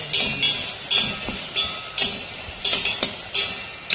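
Tomatoes sizzle in a pan while a utensil repeatedly scrapes and stirs, producing a rhythm of soft clinks and hisses at close range.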